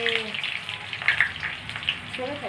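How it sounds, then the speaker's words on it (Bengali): Chicken sizzles steadily in a hot pan, a dense, even crackle of frying with brief voices at the start and the end. "চিকেন রান্না হচ্ছে, চিকেন।"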